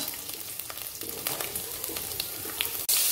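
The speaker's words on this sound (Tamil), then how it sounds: "இப்போ ஒரு நாலு பல் முழு பூண்டுங்க, தட்ட வேண்டாம், அதை எண்ணெயில் போட்டுக்கோங்க" Whole unpeeled-style garlic cloves, left uncrushed, sizzle and spit in hot oil for puliyodarai, a steady close crackle with brief sharper pops, ending in a sudden louder burst.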